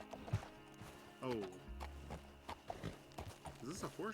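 Clip-clop of horse hooves in the video game Red Dead Redemption 2, faint steady walking steps under loud speech from people talking over the gameplay.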